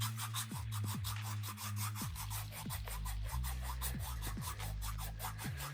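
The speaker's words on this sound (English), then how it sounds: "I'm just going to literally start by grating my heels." A foot file grates dry skin off the heels in quick, repeated rasping strokes, roughly ten or more in a steady back-and-forth rhythm. The sound is quiet and close, with no talk.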